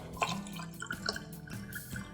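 Water is poured into a raw mango sugar syrup drink, giving a light trickling, dripping pour with a few brighter splashes over a soft background, fairly faint and close by.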